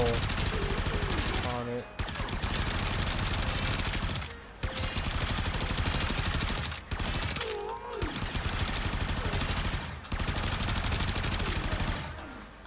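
Machine gun fire in a video game, a high-capacity weapon with a 300-round clip and extreme fire rate, roaring in long continuous loud bursts separated by brief pauses, with a voice speaking briefly over it.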